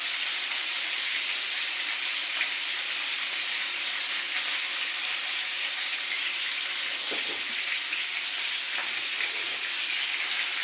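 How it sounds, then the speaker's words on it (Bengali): Fish frying in a pan on a gas stove in a home kitchen, shallow-fried until reddish-brown, with a steady, dense sizzle that holds unbroken throughout and a few faint clinks near the end. "আর মাছগুলো সুন্দর করে লাল লাল করে ভাজি করে নিতে হবে"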